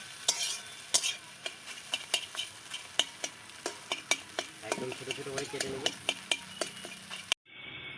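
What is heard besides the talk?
chopped egg frying and being stirred in a pan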